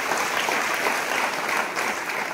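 Strong, steady audience applause at a public event in Tamkhadi, honoring minister Suresh Khade; dense clapping fills the room from start to finish with no voices over it.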